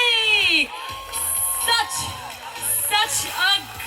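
Wedding sangeet crowd whooping and cheering after a dance performance, loud excited shouts and whistles from a nearby audience, with voices calling out over the noise.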